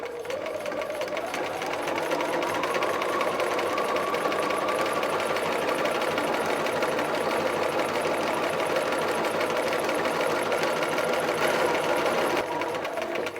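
A sewing machine stitches knit fabric for a Simplicity 9011 dress, running as a steady, fast mechanical whir and rapid clatter for the whole stretch, with no pauses and no talk.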